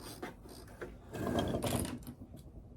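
A sewing machine mechanism clicks and whirs briefly as the needle is raised, with a short burst of mechanical rattling near the middle amid quiet handling noises.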